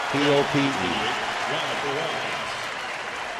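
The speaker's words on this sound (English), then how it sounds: "Gets a round of applause." Crowd applause and cheering fill a big-league baseball stadium during a game between Atlanta and a rival, a steady broad roar that fades gradually, with a broadcaster's voice speaking over it at the start.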